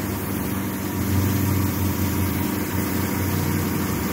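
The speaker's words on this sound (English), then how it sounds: "That was a nice Camaro making some noise." A Camaro engine idles in a steady low rumble, holding an even throaty drone without any voices.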